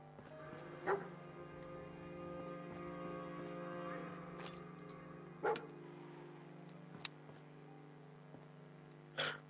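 Dogmeat, the German shepherd companion in the video game Fallout 4, gives a few short, separate barks over a steady low game hum, at about 1, 5.5 and 9.5 seconds.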